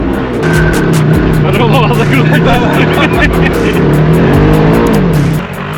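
A loud Polaris buggy engine revs hard and wavers in pitch while drifting, roaring up and down continuously close by, with a voice talking over it.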